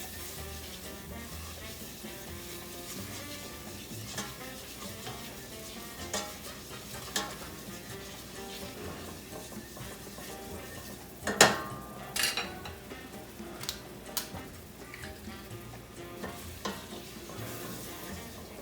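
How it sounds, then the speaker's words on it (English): Butter roux for mac and cheese is stirred in a pan over the heat: soft sizzling beneath steady scraping and a few sharp utensil clinks against the pan, close and fairly quiet. "what we're doing is just going to break up the butter. Going to get a nice little roux"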